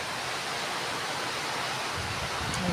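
Flood water flowing in a low-lying spot during Typhoon Uwan, a steady broad rushing wash with no pauses, moderately loud and constant throughout.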